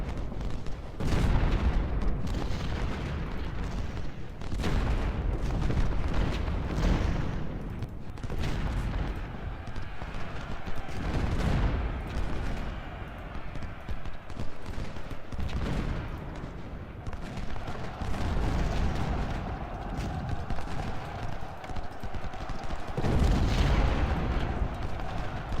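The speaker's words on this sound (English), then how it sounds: "What I'm aiming for are those cannons right there." Civil War battle in the Ultimate General: Civil War strategy game, with repeated booming cannon and artillery blasts mixed with scattered musket volleys, heavy and continuous throughout, with no talk.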